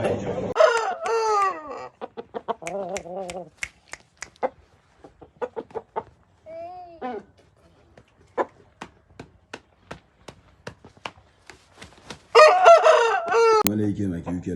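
A fighting rooster, a chick sold in Samarkand, crows loudly in two long calls at the start and end, with sharp clucks and short cries scattered in between against otherwise quiet surroundings.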